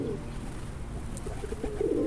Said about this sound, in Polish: Może wszystkie gołębie się tu zlatują.